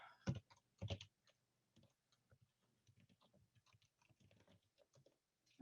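Keys clatter on a computer keyboard as a link is entered into a chat, with a few loud strokes at first and then a soft, irregular run of light taps.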